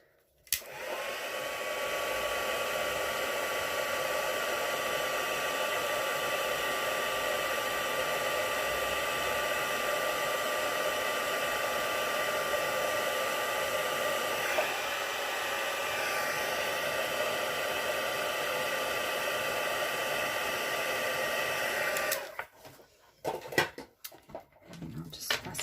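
A heat embossing tool blows hot air onto a small piece of a stamped birthday card, a steady loud whirring hum lasting over twenty seconds before switching off, followed by brief handling clatter.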